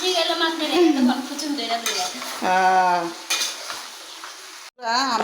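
Cooked rice is fried and stirred in a pan with Maggi masala and salt, producing a sizzle broken by repeated scraping and clinking of a utensil against the pan, close and moderately loud.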